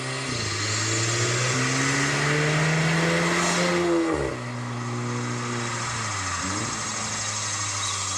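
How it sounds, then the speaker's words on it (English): A facelift VW Golf R's aftermarket exhaust drones loudly as the engine pitch drops sharply at two DSG downshifts, with brief blips between steady stretches of driving. "Downshifts sound pretty good too."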